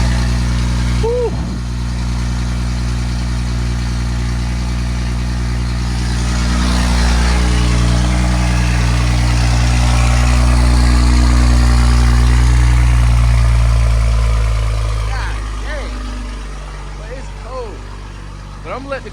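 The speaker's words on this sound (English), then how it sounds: "But I'm gonna let the car warm up" A catless BMW M340i idles while warming up on a cold, snowy morning, a loud, close, deep engine drone that swells slightly midway, with someone speaking over it.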